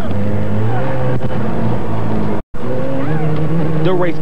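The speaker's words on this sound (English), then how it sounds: "The race continues on around fierce twists and turns, with Daphne taking the lead again" Race cars roar around a twisting track, engines whining and revving with tire squeals, loud and continuous apart from a brief cut, with voices speaking over the action.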